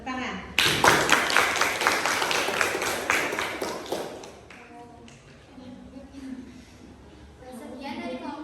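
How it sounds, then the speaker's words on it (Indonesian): Students in a classroom clap in a burst of loud, dense applause that fades after a few seconds, followed by quieter shuffling and talk. "Oke, tepuk tangan."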